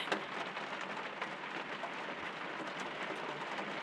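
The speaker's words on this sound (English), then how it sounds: "Something quite comforting about sat in the camper, just listening to the rain." Steady rain patters on a camper roof overhead at a Forest of Dean campsite, a dense continuous hiss of drops with no voices.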